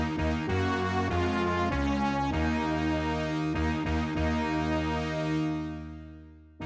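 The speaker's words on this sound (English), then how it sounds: "the horn ensemble for your cheesy heraldic fanfare" A Korg Volca FM horn ensemble preset plays a bold, chordal heraldic fanfare phrase with several changing notes, then a long held chord that fades away.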